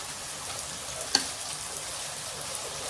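Tofu pieces fry until crisp in hot oil in a pan, giving a steady broadband sizzle with one small pop, no speech over it.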